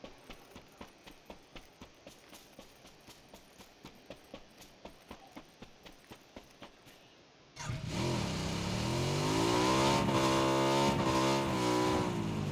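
A motorbike in the video game PUBG starts up after a run of rhythmic clicking steps, then its engine roars loudly and steadily, revving with a rising whine.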